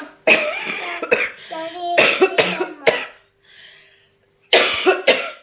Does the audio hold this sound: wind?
no